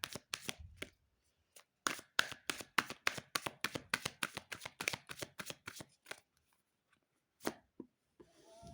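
Tarot cards are riffled and shuffled in a rapid series of crisp, close slaps and flutters, pausing briefly before a few final taps, with no talking.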